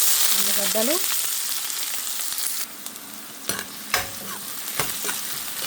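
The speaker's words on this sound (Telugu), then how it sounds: "2 స్పూన్ల నూనె పోసి పోపు గింజలు వేసుకున్నాక" Mustard seeds crackle and sizzle in two spoons of hot oil, a bright steady hiss at first that thins out, broken by a few sharp clinks of stirring in the pan while frying ivy gourd.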